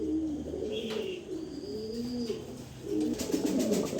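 Large show pigeons cooing nearby in a loft, repeated low rolling coos from several birds overlapping continuously, with a faint higher chirp now and then.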